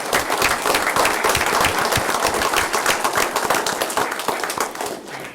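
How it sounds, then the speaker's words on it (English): Dense, loud applause fills a Harlingen City Commission meeting room, many hands clapping together in a continuous burst that tapers slightly at the very end. "So how about a huge round of applause?"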